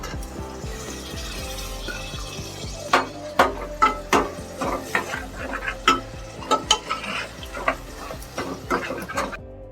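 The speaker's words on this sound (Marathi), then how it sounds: "आता आपण याच्यामध्ये टमाटे टाकूया." Tomatoes cooking in a pan for pulao are stirred with a utensil, producing a series of loud scraping clanks and knocks over a continuous sizzle, close up with no talk.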